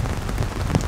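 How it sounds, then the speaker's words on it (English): Heavy rain pours steadily during a camping trip, a dense, loud wash with scattered sharper drop impacts throughout, with no voices. "I don't think I've ever camped when it's raining actually like this hard."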